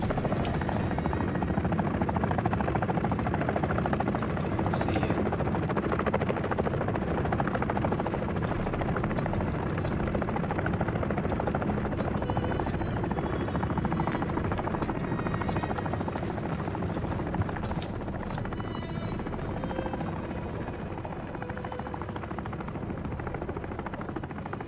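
An attack helicopter in Call of Duty Modern Warfare 3 roars with constant loud rotor thumping and engine drone for the whole stretch, with bursts of gunfire and battle noise layered over it.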